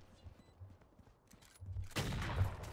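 A shotgun blast in a Valorant-style tactical shooter match, heard as a sudden broadband burst about two seconds in, loud and close, over quieter game ambience.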